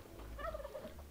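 Turkeys gobbling in the dungeon-management game Dungeons 3, one short warbling gobble over a low background hum.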